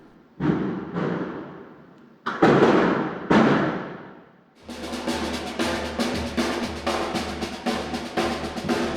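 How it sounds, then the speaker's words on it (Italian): Firecrackers explode at dawn during Las Fallas in Valencia: a few big booms with long echoing decays, then a fast rapid-fire string of crackling bangs, loud and nearby. "sono le 5 di mattina e questi sono i botti"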